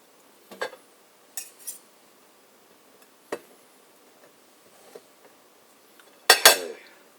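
A metal fork clinks against dishes while an everything bagel egg sandwich is put together, giving a few scattered light taps. A brighter cluster of clatter follows near the end, all close by in a quiet kitchen.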